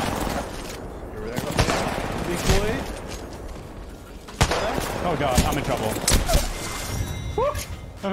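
Rapid gunfire in a competitive video game match, sharp bursts and single shots scattered throughout, mixed with game effects and players talking over it.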